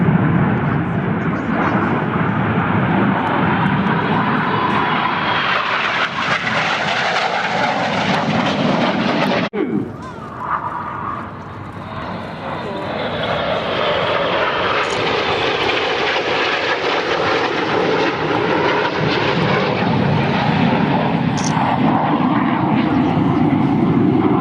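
Display team jets flying at the Farnborough Airshow 2014 give a loud, sustained roar that dips briefly around midway and then swells back as the aircraft pass.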